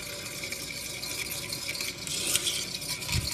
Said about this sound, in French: Et on continue à brasser.